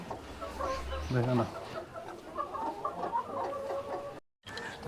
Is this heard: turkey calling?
yes